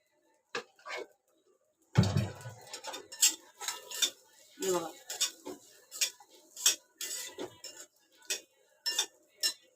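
Rice mixture roasting in ghee for a Konkani rice-flour khandoli, stirred with a metal spoon in a pan, giving a steady run of close clinks and scrapes with no talk.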